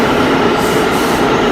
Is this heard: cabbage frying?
no